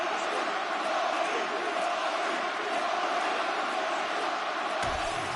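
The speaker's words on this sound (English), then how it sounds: "the crowd voicing its appreciation after that round" A crowd roars and cheers in the UFC 6 video game after a round ends, a steady broad wash of noise at moderate level with no talk over it.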